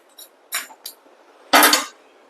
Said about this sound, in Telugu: ఇప్పుడు కాసేపు మూత పెట్టేద్దాం